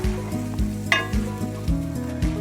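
Brussels sprouts sauté in a hot pan with a steady, close sizzle and a few rhythmic stirring scrapes, no voices.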